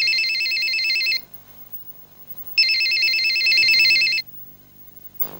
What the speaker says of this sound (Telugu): పుష్ప, ఆ ఫోన్ చూడు.